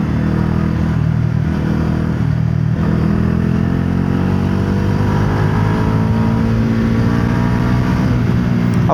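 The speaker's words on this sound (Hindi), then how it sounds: "इस बाइक का एग्जॉस्ट नोट भी यार काफ़ी अच्छा है" A Bajaj Dominar 400 motorcycle runs under way with a steady, loud exhaust drone and engine hum, pitch shifting slightly as it rides on, without any talk.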